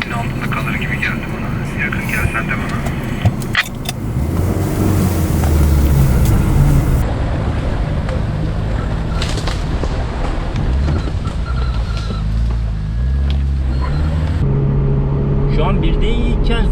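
An off-road vehicle pushes through a water crossing in a single gear, its loud engine rumble steady and close throughout, mixed with churning water and wind buffeting the microphone.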